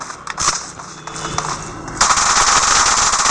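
Video game team deathmatch firefight, with rapid machine gun bursts and gunshots that build to a dense, continuous, loud volley in the second half, no talking.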